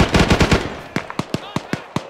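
Video game gunfire in Arma 3 comes as rapid automatic bursts, then a string of separate loud shots in uneven rhythm, close and dominant in the mix.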